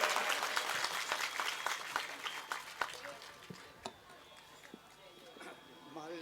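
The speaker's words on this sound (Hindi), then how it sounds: "मेरे फूफा जी के द्वारा जरा जोरदार तालियों से स्वागत" Applause from a religious gathering at a Shri Ram Katha in Hamirpur, with many hands clapping at once; the sound is loud and dense at first, then thins and tails off.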